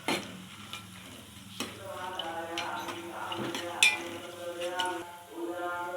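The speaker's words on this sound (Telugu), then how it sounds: "ఇవన్నీ బాగా ఫ్రై చేసుకోవాలి." Bay leaves, shahjeera and stone flower frying in a pan for an Andhra-style chicken curry, giving a steady close sizzle with stirring and a few light scrapes and clinks of a utensil.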